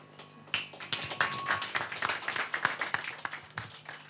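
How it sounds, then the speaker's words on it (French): An audience at a Miss and Mister pageant election applauds the candidates, a burst of dense clapping that holds steady for several seconds. "On applaudit les candidats numéro 6"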